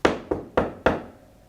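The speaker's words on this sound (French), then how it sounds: "Et voilà qu'un jour, on tape à sa porte." Four firm knocks on a door, evenly spaced about a quarter second apart, close and fairly loud with a short ring after each, alone with no talk.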